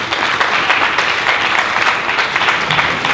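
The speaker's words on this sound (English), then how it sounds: "Let's give Bert a nice round of applause." Loud, dense applause from a crowd at a memorial event welcoming a speaker to the front, a continuous even roar of many hands clapping close by with no talking over it.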